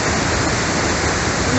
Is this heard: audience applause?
no